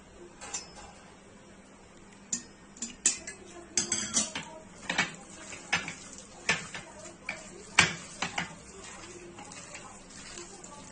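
Runny gram flour batter for mirchi pakodi being stirred in a bowl, irregular clinks and scrapes of a spoon against the vessel, with quiet stretches between bursts of mixing.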